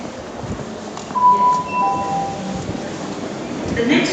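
A South Western Railway train standing at a Vauxhall platform hums steadily with a rising rumble, faint squeals and clinks, and a brief tonal whine near the end.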